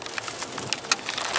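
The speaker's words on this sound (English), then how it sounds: "It is hailing outside." Hail falls outside in Philadelphia, a dense spray of irregular ticks and patters striking surfaces, fairly loud and continuous with a few sharper hits and no talking.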